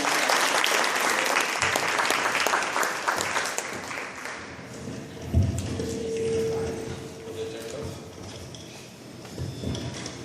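Audience applause fills a room after a business blogging talk, dense clapping that gradually thins and fades, with a few scattered taps and brief voices near the end.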